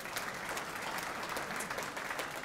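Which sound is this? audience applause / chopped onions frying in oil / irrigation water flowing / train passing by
audience applause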